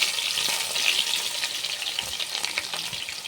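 Chopped onion frying in hot oil with whole spices, a bright steady sizzle with soft crackles and a faint stirring scrape, close and fairly quiet throughout.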